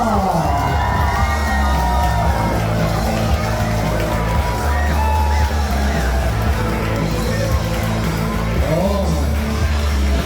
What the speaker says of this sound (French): Mesdames, Mesdemoiselles, Messieurs, on applaudit Danny, Dan, Boisvert, Lima!